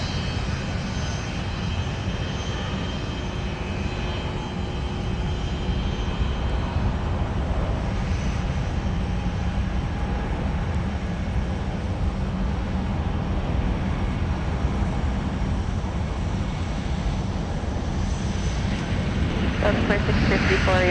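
A plane takes off from runway 17 at Minneapolis–St. Paul airport, a steady broadband engine roar filling the whole stretch while radio voices talk over it.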